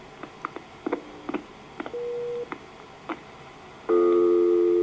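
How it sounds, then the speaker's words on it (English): A telephone coin line gives scattered clicks and brief tones, then a steady, loud dial tone comes on near the end and holds. "we get another dial tone"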